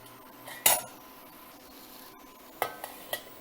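Cashew pieces tip into a pan of vegetable biryani curry with a sharp clatter, followed by a few lighter clinks of a utensil over a faint sizzle.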